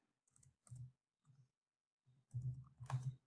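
Scattered clicks of a computer keyboard while typing Python code, a few isolated keystrokes followed by a quicker cluster near the end, soft and close with no talking.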